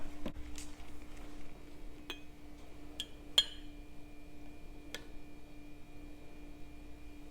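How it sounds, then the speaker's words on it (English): A spoon stirs a coffee and tea blend in a cup, producing a handful of light, scattered clinks against the sides, close but soft, over a faint steady hum with no talking. "I think I am going to stir that just a little bit."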